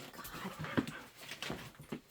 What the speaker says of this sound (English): Just got home, so the dogs are excited to see us.